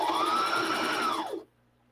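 A sewing machine stitching fabric, running at a steady fast whir for about a second and a half before stopping abruptly, close and alone.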